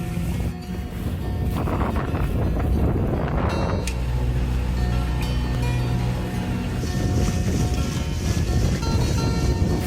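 Heavy wind buffets the microphone on a boat at sea in a loud, continuous low roar, with bursts of rushing gusts and an engine-like rumble beneath.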